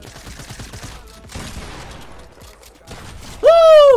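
Rapid gunfire bursts crackle in a Fortnite match, a quick run of shots followed by a louder, sharper burst at the end, with faint talk in the background.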